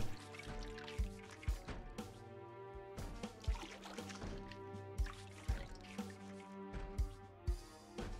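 Water splashing and dripping as a character washes in Project Zomboid, quiet irregular drips and small sloshes spaced across the clip over soft tonal background music.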